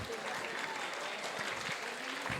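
An audience of KPR engineering college students at a Women's Day celebration applauds, a dense, loud, steady wash of clapping from many hands that fills the whole moment.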